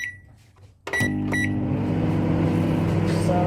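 A microwave oven melting butter starts with a click and beep, then runs with a steady loud hum that continues to the end.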